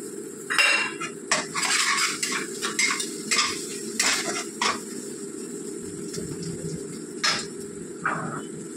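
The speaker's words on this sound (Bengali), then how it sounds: "পেঁয়াজ বাটাটা দিলাম।" Onion paste frying in a pan for Bengali boal fish korma sounds as close bursts of stirring and clattering utensil strokes against the cookware over a soft sizzle, irregular and without speech.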